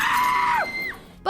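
Woman screaming in the horror film Jason Takes Manhattan, one loud, sustained high-pitched scream that bends downward and breaks off, then a fresh cry starts at the very end.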